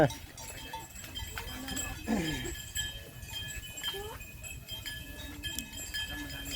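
Water buffalo herd moving through rural Thailand with cowbells clanking irregularly, animal calls and hoof sounds mixed into a busy outdoor background, with a voice talking now and then.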